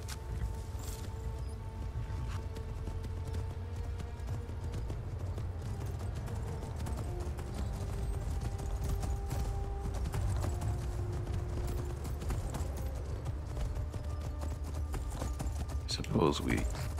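Rhythmic horse hoofbeats clop steadily throughout in Skyrim, with a low rumble beneath and occasional voices and faint effects over the top.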